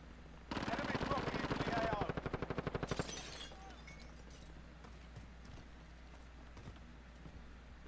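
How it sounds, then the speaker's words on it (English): Call of Duty gunfire: a rapid, loud burst of automatic weapon fire lasting a couple of seconds, trailing into slower shots and fading into quieter background game noise. "He's shooting at him."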